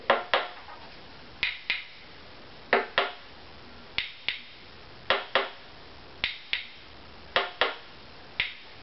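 Light taps on a violin bridge during a tap tone check, heard as a series of sharp, quiet clicks in pairs and small groups with brief ringing decay, close up and alone.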